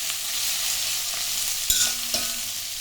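Bottle gourd skin sautés in a pan with tamarind, a steady close sizzle broken by two sharp utensil clicks.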